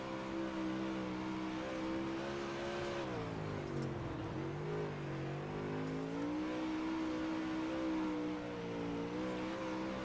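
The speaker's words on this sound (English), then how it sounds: "As we go on board with Tim Deswart, as he rides around in 3rd place in heat race number 2" Onboard engine sound from a race car on the dirt track at Charlotte during a heat race, a continuous loud drone that dips and rises as the car slows and accelerates through the corners.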